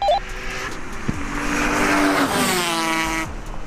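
A Toyota Supra with a 2JZ engine roars past, racing an Aprilia RS 250 two-stroke twin motorbike, rising then falling engine note, tires hissing, while the bike's high-revving engine whines in the background.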